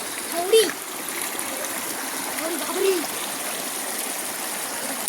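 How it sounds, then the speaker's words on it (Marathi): Steady rushing water pours and splashes continuously from a pipe out of a brim-full well, close by, with a couple of brief louder gushes and faint voices in the background. "पाईपमधून पाणी बाहेर येते"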